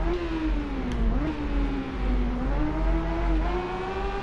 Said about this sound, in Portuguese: CB650 Naked da Honda, sucessora da Hornet.